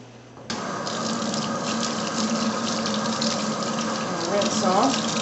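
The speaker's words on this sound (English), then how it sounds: "Rinse off." Tap water runs steadily over candle-wax-stained fabric being rinsed clean after a scrub with cleanser, a continuous close gush with slight splashing variation near the end.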